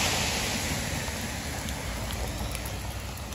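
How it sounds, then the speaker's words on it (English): Heavy rain falling outdoors in Los Angeles, a dense steady hiss of drops on surfaces with faint scattered ticks, constant and moderately loud with no speech. "We haven't had rain like this in so long."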